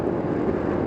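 Honda Forza scooter engine holding steady around 5000 rpm while riding, a continuous low droning hum with wind rush, steady and unbroken throughout.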